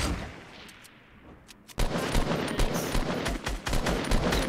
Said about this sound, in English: Nice snipe.